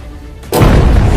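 Bomb explosion in a cartoon-style jungle skirmish with soldiers: a sudden loud, deep boom bursts in after a half-second of quiet and rumbles on without fading.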